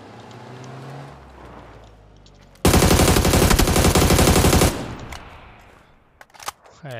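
MG3 machine gun fired in a video game: a dense, loud burst of rapid automatic fire lasting about two seconds, set between quieter ambient game noise and a few clicks afterward.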